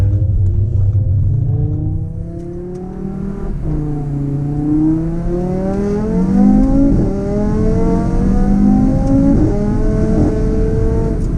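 A big turbo car engine drones and rises in pitch through the gears, with the revs climbing and dropping as it accelerates, heard from inside the cabin of a dual-clutch car with paddle shifters.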